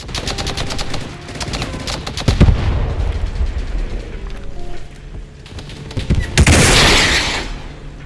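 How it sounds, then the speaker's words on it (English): Rapid bursts of machine gun fire in a multicrew tank combat video game, loud and close, with heavier cannon-like blasts and a roaring impact near the end. "His shot at me and following machine gun fire remind me how close I am to the spawn shield"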